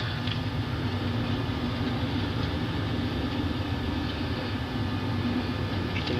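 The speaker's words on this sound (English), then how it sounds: "Okay, reverse. Reverse thrust." Aircraft engines roar in reverse thrust during a landing rollout, a loud, steady broadband rush that holds without a break and drowns out other sound.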